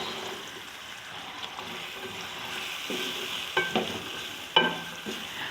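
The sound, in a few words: chickpeas frying and stirring with spices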